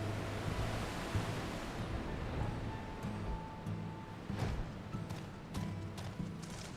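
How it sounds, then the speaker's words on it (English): Waterfall at a secret entrance in Final Fantasy XIV, a steady broadband rushing wash of falling water, fairly faint and continuous, with a few soft thumps and clicks over it. "Secret waterfall entrance."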